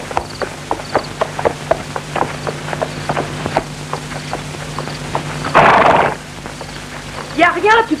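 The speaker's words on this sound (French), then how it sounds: "on a entendu nettement le bruit des sabots" Horse hooves clip-clop in an even, rhythmic series of sharp knocks, followed by a brief noisy burst and a short whinny-like cry near the end.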